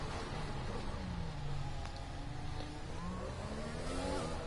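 McLaren race car in an F1 racing video game at Monaco, its engine droning steadily with rising and falling pitch sweeps as it rounds the track, continuous and fairly loud throughout.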